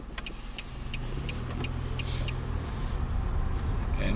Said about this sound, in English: So I'm gonna move the car from here.